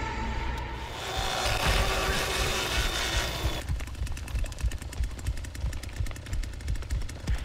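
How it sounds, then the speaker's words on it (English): A chainsaw in The Texas Chain Saw Massacre video game revs loud and close, a harsh steady engine roar that turns into a rapid buzzing chatter midway and keeps going throughout. "I was worried my chainsaw was going to overheat"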